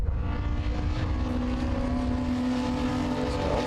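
Race cars, including a Ford Escort Cosworth, run down the back straight at Snetterton circuit during a BRSCC meeting, producing a continuous roar of engines with a rising tonal drone at moderate distance.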